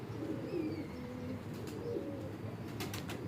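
A flock of 100 to 150 domestic pigeons on a rooftop coos steadily nearby, with soft overlapping burbling calls and a few faint wing flutters near the end.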